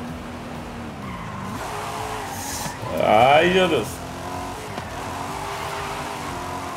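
A Corvette C8 in a racing video game skids and drifts, its tires squealing in a loud wavering burst over steady engine drone, while someone talks and exclaims.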